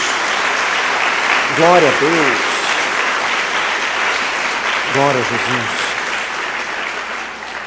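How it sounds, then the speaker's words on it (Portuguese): Church congregation applauding, a steady broad wash of clapping throughout, with voices calling out praise over it at moments. "Dê uma salva de palmas a Jesus"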